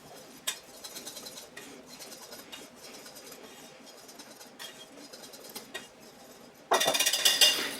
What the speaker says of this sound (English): Now we mix it all up. First, we will be mixing our dry components.